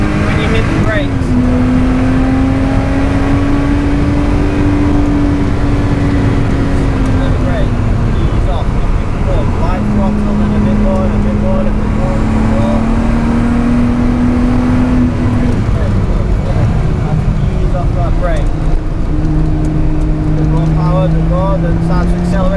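A race car at Oulton Park circuit accelerates hard, its engine note climbing in long sweeps between gear changes, loud and close from the cockpit, with a driver talking throughout.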